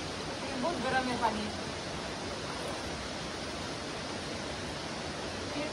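Stream water in Dirang rushes in a dense, steady roar that stays even throughout, with a short burst of voices just after the start.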